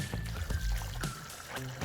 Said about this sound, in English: Now we're gonna add some water.